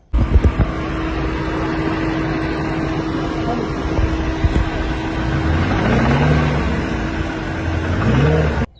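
Ford Mustang GT350 with a failing Voodoo engine at a track, running with a loud continuous drone and a steady tonal whine, its pitch rising and falling in two swells toward the end.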